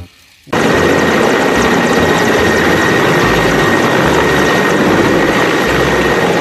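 A loud helicopter runs close by, its rotor chopping steadily with a constant engine whine, starting abruptly after a brief quiet moment.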